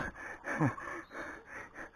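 Heavy, rhythmic panting follows a climb on a sky park ride, with close, loud breaths repeating in quick succession and no talk over them.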